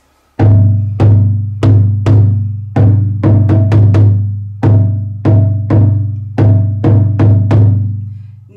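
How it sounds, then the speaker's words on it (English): A deep, resonant West African dundun bass drum, rope-tensioned, struck in an uneven rhythmic pattern, each boomy hit ringing briefly before the next, played alone and up close. "Doon Doon sounds like this."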